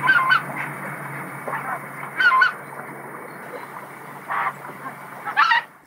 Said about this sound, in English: followed by the greater white-fronted geese that I also recorded.